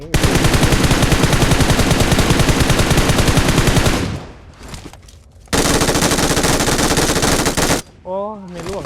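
Rapid machine-gun fire in the mobile shooter PUBG Mobile, a loud sustained burst for about four seconds, a brief lull, then another long burst, with a short whooshing sweep near the end.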